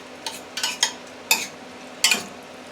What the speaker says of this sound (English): add the ground beef that we already drained with the oil to it